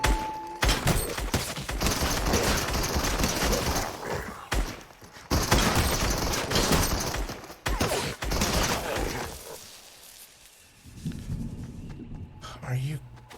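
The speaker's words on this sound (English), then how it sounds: "She's seriously shooting at them." Rapid fusillades of gunfire in the video game Fortnite, dense bursts of shots repeating through most of the stretch before thinning out near the end, loud and close, with players' voices talking over the fire at times.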